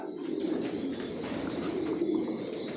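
Young racing pigeon squabs, four to five weeks old, coo steadily together in a loft, a continuous low murmur of overlapping calls with no voices.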